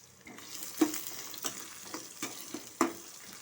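Chopped onions frying with fenugreek seeds in a pan for sambar give a soft sizzle, broken by several sharp stirring scrapes and clinks at irregular moments.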